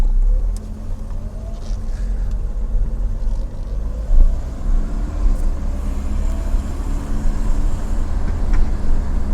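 BMW E30 with a single-cam four-cylinder engine driving through the city, a steady low interior rumble with a slightly rough, uneven idle note and no talking.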